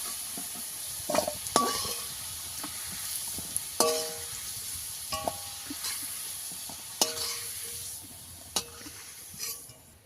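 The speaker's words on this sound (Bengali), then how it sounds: "কচুটা এইভাবে ভালো করে তেল দিয়ে ভেজে নিতে হবে।" Taro pieces frying in oil in a pan give off a soft continuous sizzle, broken by sharp scrapes and clanks of a spoon stirring against the pan every second or two.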